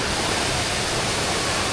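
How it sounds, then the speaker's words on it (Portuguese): Small waterfall pouring into a pool at a beach, a dense, steady rushing hiss heard close and loud with no break or voices. "E uma pequena cachoeira ali."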